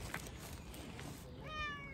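A cat meows once, a short rising-then-falling call near the end, fairly close, after soft background noise and faint rustles; no one speaks over it.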